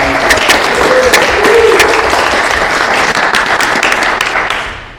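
Dense audience applause fills a tricentennial committee meeting, steady and loud for several seconds before tapering off at the end, with a few voices faintly mixed in.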